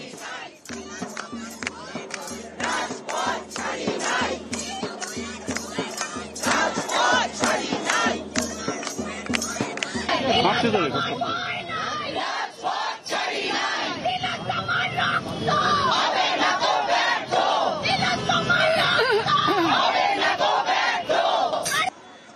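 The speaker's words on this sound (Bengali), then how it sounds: "হাজরা মোড়ে পুলিশের ব্যারিকেডের সামনে বিক্ষোভ, স্লোগান" A protest crowd chants slogans at a police barricade at Hazra crossing in Kolkata, loud rhythmic call-and-response shouting that swells into a sustained mass roar of voices.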